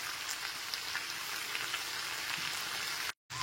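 Mixed winter vegetables frying in a pan with ginger paste and slit green chillies, a steady dense sizzle that stays loud and even throughout before cutting out abruptly near the end.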